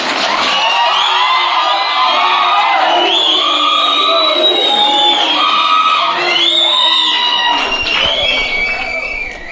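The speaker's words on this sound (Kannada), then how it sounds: "ಪರವಾಗಿ ಪ್ರೀತಿಯ ಚಪ್ಪಾಳೆಯನ್ನ." Loud, continuous cheering and whooping from a crowd, including shouting children, at a Karnataka institute's event honouring a former student who became a BSF constable. It holds steady for about nine seconds and fades slightly at the end.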